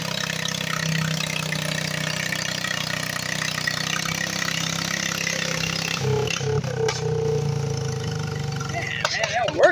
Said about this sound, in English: Man, they're working, them engines.